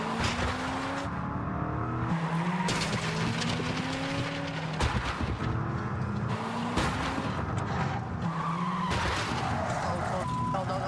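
A car on a closed driving course accelerates too fast, its engine revving steadily with tires squealing and skidding throughout, loud and continuous with no pauses.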